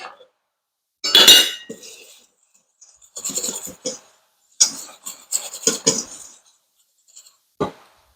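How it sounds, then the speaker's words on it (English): A metal whisk clinks and scrapes against a bowl while baking powder and baking soda are mixed, giving irregular bursts of bright tapping and rattling separated by short pauses. "And I'm going to whisk these together."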